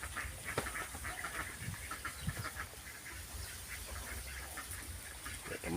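Farm ducks quack in a rapid, overlapping chorus of nasal calls, moderately distant over a steady outdoor background.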